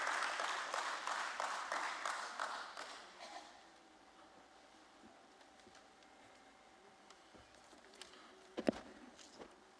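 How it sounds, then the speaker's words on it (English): An audience applauds at a stock exchange listing ceremony at BSE, a faint, distant round of clapping that fades out after a few seconds into quiet room noise with a few scattered clicks. "A nice big round of applause, ladies and gentlemen"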